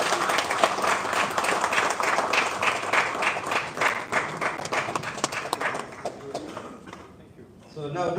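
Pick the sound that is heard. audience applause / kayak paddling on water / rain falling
audience applause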